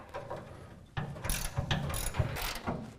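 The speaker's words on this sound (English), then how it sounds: "I really love these gear wrenches because it allows you to kind of get a double ratcheting action going here." Ratcheting gear wrench backing out exhaust hanger bolts under a car, a quick series of close, crisp clicking ratchet bursts over about three seconds with no talking.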